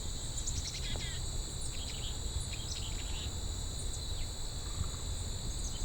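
A dog-day cicada buzzes as a steady, high, sustained drone through a summer forest in Dundas Valley, Ontario, with faint bird chirps around it and no talking.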